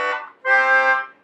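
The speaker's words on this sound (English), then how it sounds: "the music often ended with this thing called a double leading tone cadence, which sounds like this" A 14th-century double leading tone cadence sounds in two sustained harmonic chords, a short fading first chord then a longer held resolving chord, clear and alone.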